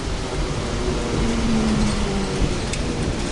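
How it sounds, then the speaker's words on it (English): Steady rain patters on a service van as it drives, a dense, even hiss over a low road rumble with a faint tonal drone and a brief knock near the end. "It's raining as usual,"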